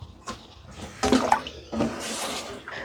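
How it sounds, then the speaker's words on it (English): Rose petals rinsed in cold water, splashing and running water in two short bursts with gentle trickling in between, close and moderately loud, with no voices. "I'm going to rinse some of my rose petals in some cold water."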